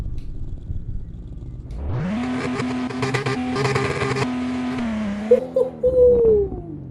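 A car engine in a Roblox driving game with a sequential sports transmission, idling low before revving up to a steady drone, then dropping away into a few short whining sounds.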